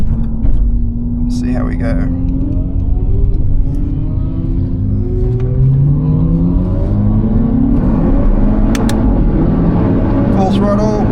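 A Hyundai i20 N engine in N mode on the Nürburgring track, rising in pitch under acceleration with audible gear changes, a steady loud rumble running under a man's continuous speech throughout.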